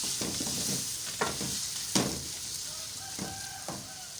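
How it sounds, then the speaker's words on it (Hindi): A masala with ginger-garlic paste fries in a pan for methi aloo, a steady close sizzle under several scraping stirs, the sharpest one near the middle, with no voices. "ये अच्छे से भुनाई करनी है मसाले की"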